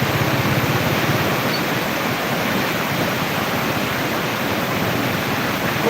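Floodwater overflowing at the far end of a flooded area, a steady loud broadband rush like a torrent or waterfall that holds constant throughout with no voices.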